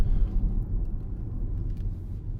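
A 2015 Audi Q5 2.0 TDI S line Plus quattro on the road, its engine and road rumble a low, steady drone heard from inside the cabin, with no talk.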